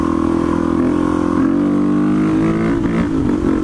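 Supermoto motorcycle engine held at a loud, steady high-rpm drone during a wheelie, with slight pitch shifts as it climbs from third to fourth gear without the clutch.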